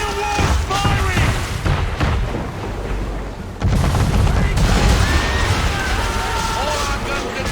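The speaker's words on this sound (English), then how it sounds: "Man of war firing!" Heavy cannon booms from a man-of-war warship in Assassin's Creed III naval combat, loud, deep blasts rolling under shouting crew voices and battle noise.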